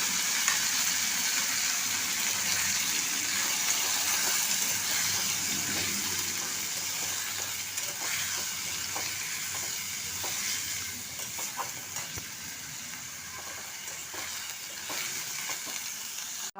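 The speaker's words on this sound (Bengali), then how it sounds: "চাল আর পটল খুব ভালোভাবে ভাজা হয়ে গেছে" Rice and pointed gourd frying together in a pan give a steady, moderately loud sizzle, with scattered stirring scrapes running through it and no voices.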